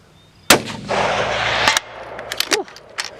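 A Ruger Precision or XCR rifle fires outdoors at a long-range shooting session: one loud, sharp gunshot followed by a sustained rumbling echo, then a second crack and a few faint distant pops and clicks.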